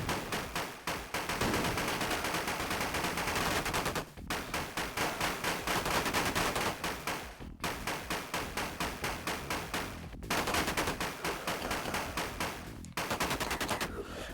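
Sustained rapid gunfire from the True Lies Mega Drive game, loud dense bursts of automatic shots running almost continuously with brief gaps between volleys.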